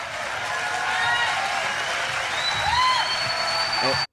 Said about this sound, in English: Look at this group of people absolutely losing it, clapping.